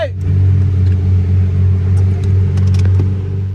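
A Lamborghini Murcielago Roadster with a V12 and gated six-speed manual rumbles close by with a deep, pulsing engine note that swells as it pulls away, with faint background sounds.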